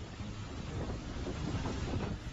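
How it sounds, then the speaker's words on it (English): Strong typhoon winds roar steadily near the coast of China on the way to Shanghai, a dense continuous rushing buffet with gusty swells, loud and close against the microphone, with no voices. "The wind blowing forcefully."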